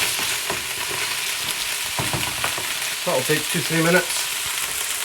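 Potatoes fry in a pan for a vegetable curry, giving a steady, close sizzle with stirring scrapes, while someone speaks briefly over it near the end.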